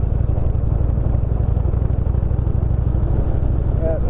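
A 2018 Indian Chief Vintage V-twin lugs at low revs, about 1400 RPM in sixth gear, giving a steady, deep, close throbbing rumble with a continuous pulse and no talk over it.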